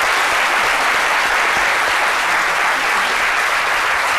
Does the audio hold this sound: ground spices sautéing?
no